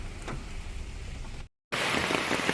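Steady rain hisses loudly and continuously near Goyar Falls in Karwar, a dense even wash of falling water that cuts out briefly midway before returning even louder.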